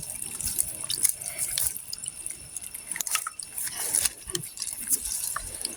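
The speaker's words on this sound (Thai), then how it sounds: "เทน้ำกันอีกครับผม" Water splashing and trickling, with irregular drips and splashes over a faint hiss, close by and moderately loud.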